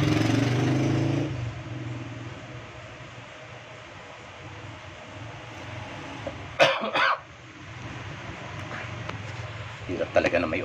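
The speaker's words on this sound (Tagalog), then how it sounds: "Hirap talaga na may ubo." A couple of short, harsh coughs break through a low background hum, the second one near the end.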